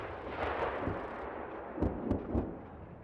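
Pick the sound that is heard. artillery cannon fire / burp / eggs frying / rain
artillery cannon fire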